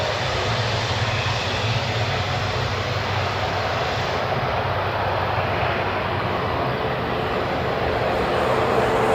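A Hawaiian Airlines airliner departs Honolulu airport bound for LAX, its jet engines making a loud, steady broadband roar that holds for the whole stretch with no voices.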